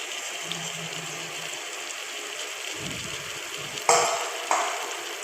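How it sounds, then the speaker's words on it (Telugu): Chicken pieces dropped into hot oil in a pan for Muslim-style biryani, a steady sizzling frying noise with stirring clatter and two sharp bursts near the end. "చికెన్ వేసి కొంచెం కలబెట్టి పెట్టండి"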